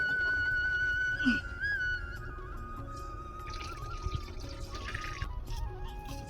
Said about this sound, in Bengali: জলটা আমি খালি করে নিচ্ছি